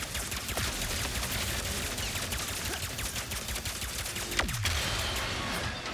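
Rapid video game gunfire from Ratchet and Clank Rift Apart aimed at a dropship, a dense crackling barrage of shots and blasts running throughout, loud and continuous, with one sharper descending whoosh near the end.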